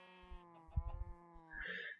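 Sheep bleating in a Minecraft-style video game with the Smoothic resource pack: a harmonic, wavering bleat held for most of the two seconds, loud and close, with faint soft steps underneath and no talk.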